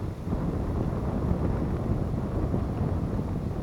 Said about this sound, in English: Hear the wind. Wind's blowing.